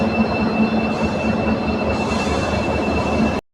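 A train hauled by Lalaguda WAP-7 electric locomotive 30427 rumbles past close by, its wheels squealing against the rails over a continuous heavy roll and an electric whine, then the sound cuts off abruptly.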